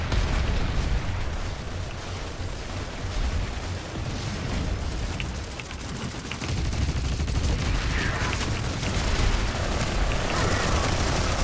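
Gunfire in the video game Planetside 2, a dense, continuous barrage of shots and explosions filling the whole stretch, loud and chaotic, with a player talking over it.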